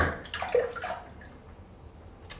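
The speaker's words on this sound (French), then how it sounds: "j'ai mis de l'eau dans mon savon" Water is poured and splashed onto a puck of shaving soap. It comes as a brief splashing burst near the mic and trickles off into quiet, with one small drip near the end.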